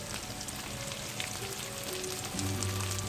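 Chopped onion and chicken sauté together in a pan with ginger for Singaporean rice, giving a steady close sizzle throughout with a louder burst of frying near the end.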